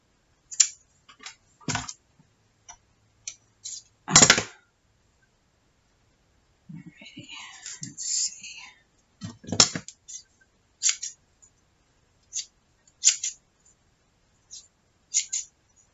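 Scissors cut paper pieces for a Sherlock Holmes-style detective journal, with sharp, close snips spaced irregularly and separated by near-silence.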